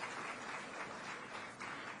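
Dense, loud applause from a large crowd at a women's conference and tree-planting event in Jagdalpur welcomes a cabinet minister, steady clapping filling the whole short moment.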